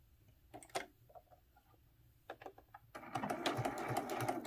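A sewing machine stitching down quilt binding: a few single clicking stitches, then a steady, close mechanical whir of continuous stitching with no talking.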